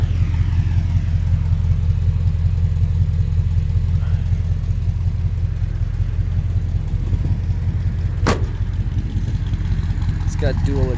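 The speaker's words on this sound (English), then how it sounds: "It's a 440 motor that runs outstandingly well." A 1976 Dodge D100 pickup's 440 V8 with dual exhaust and cherry bomb mufflers idles steadily, a deep continuous rumble close by, with a voice in the background.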